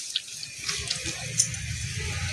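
Water splashing and trickling steadily onto a potted aloe vera plant outdoors, a continuous close wash of liquid with a few brief spatters, no talking.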